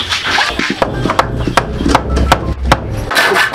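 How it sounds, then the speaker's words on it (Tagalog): Nails being pried out of plywood, with repeated sharp creaks, rasps and knocks of wood against metal, loud and close, irregular bursts over a dense background. "Kunin natin yung mga pako na nakataroy dito."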